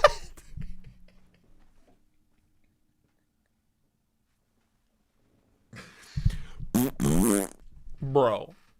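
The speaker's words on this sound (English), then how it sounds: "the fart noises will never get old" Fart noises from a played advertisement burst out after a long silence as a run of loud, buzzy, rippling blasts, preceded by a few brief scattered noises at the start.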